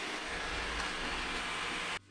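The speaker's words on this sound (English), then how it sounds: "Hoovering like a boss." Eufy RoboVac 11 robot vacuum cleaner cleaning crumbs on a desk, a steady loud whirring hum with broadband hiss that cuts off abruptly near the end.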